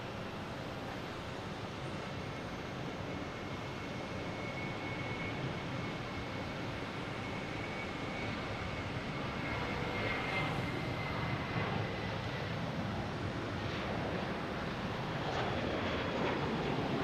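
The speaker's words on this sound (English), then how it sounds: "next taking off is the JetBlue heading to San Juan" A JetBlue Airbus A320 takes off from Boston Logan bound for San Juan, a continuous, powerful jet roar that builds slightly while a high engine whine drifts across it.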